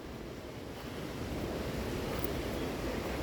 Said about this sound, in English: So this is the river